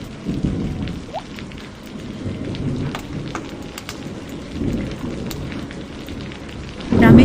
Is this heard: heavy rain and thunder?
yes